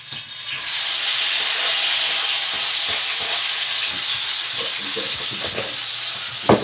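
Tomato dropped into hot oil in a pan, sizzling and frying loudly and steadily at close range, a dense continuous hiss with small crackles and pops, no talk.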